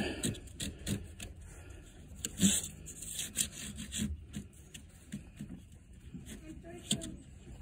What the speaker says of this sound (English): so I'm going to take a second shim here. Just slide it in.